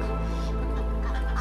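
Ducks on a small backyard duck farm quack and gabble continuously in a loud, dense chorus close by.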